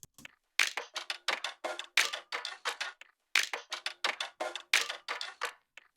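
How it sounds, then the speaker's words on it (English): A dry percussion loop sample from Splice plays alone, crisp clicky hits in a tight repeating pattern of short bursts, cycling twice with brief gaps between phrases. "I found this percussion loop on Splice which sounds like this"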